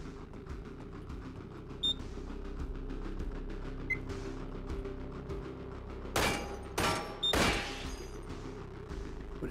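Gunfire in the video game Receiver, a few loud close bursts of shots standing out late over a steady low background hum.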